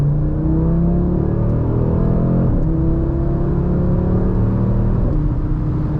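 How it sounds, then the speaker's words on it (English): A 2024 Audi RS3 five-cylinder engine pulls hard through rising revs with a droning tone, shifting gears twice, loud and close from inside the car. "The 5-cylinder engine sounds cool, so we're gonna get on it a little bit here."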